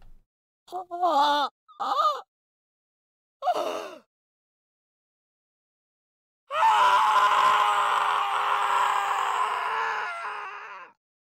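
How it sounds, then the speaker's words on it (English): A man in the Steins;Gate visual novel screams in despair. Several short strained cries and groans come first, then a long, loud, sustained scream lasting about four seconds that fades at the end. "The scream I heard that day was my own."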